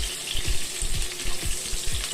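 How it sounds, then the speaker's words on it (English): Beef sizzles hard in a hot wok while stir-frying for beef in black bean sauce, with rhythmic scraping and tossing strokes about twice a second over a steady crackle. "You want to get it sizzling as much as you can and cook it as quick as possible."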